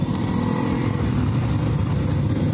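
Motorcycles pass on a road in Malalag, Davao del Sur, their engines making a continuous close drone with slight revving swells and no break.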